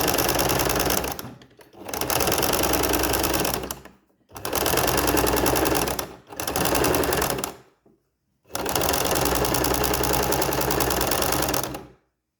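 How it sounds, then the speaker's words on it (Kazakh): A sewing machine runs a 2 to 3 mm straight stitch along the bottom of a bag, whirring loud and close in four steady bursts with short pauses between them. "Енді түбін түзу тігіспен тігіп шығамыз."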